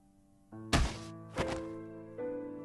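A body slammed hard into a wall in a Chaos;Child visual novel scene, heard as two heavy close thunks about half a second apart over a low sustained music bed.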